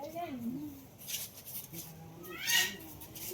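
A cat at a cactus farm gives a couple of soft, faint meows under a person speaking close by.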